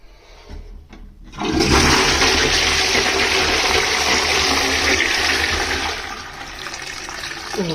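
An AM.PM Hit CTA1700SC toilet that sprays water flushes with a loud, steady rush of water and splashing that holds for several seconds after a brief quiet start.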